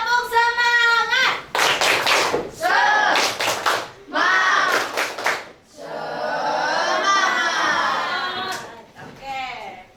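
Children in a classroom perform a rhythmic cheer clap, bursts of sharp hand claps alternating with a teacher's voice and kids' chanting, close and lively.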